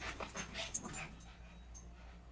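Several dogs at play, panting and giving soft whimpers and yips in a quiet room, with a brief sharper sound near the middle; fairly faint and close.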